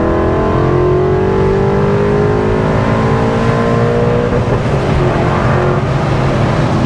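Supercharged E39 BMW M5 engine pulling flat out in third gear from low revs, a loud continuous roar with rising harmonics climbing steadily in pitch throughout, heard from inside the car.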